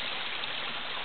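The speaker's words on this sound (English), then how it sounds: "in a little stream in the jungle." A small stream flowing through the jungle, heard up close as a steady, full rush of trickling and splashing water that fills the whole clip without pause.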